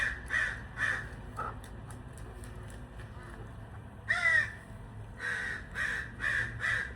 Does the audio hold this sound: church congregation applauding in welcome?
no